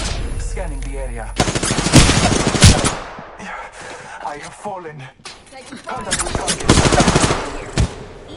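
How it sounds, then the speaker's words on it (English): Rapid automatic gunfire from a shooter video game, loud bursts of repeated shots in two main volleys with game effects and speech mixed in between. "Listen up, I'm getting shot at."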